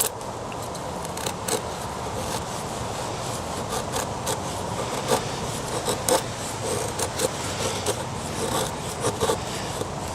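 Cold Steel Kukri machete carving feather sticks from wood, a steady scraping, rasping rub with small repeated shaving strokes, close and continuous with no talk.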